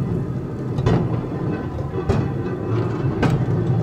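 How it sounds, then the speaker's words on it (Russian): A rail handcar (draisine) at a railway museum clatters along the tracks, with a continuous rumble broken by sharp, loud clanks from the rail joints at roughly one-second intervals, close by. "Видишь, даже звук такой, как в железных дорогах."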